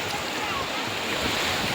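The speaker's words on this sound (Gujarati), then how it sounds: "મોજા પણ એમ આવે છે દરિયામાં" Sea waves break on a beach shore, a continuous close roar of surf with a wind-buffeted rushing hiss and no clear pauses.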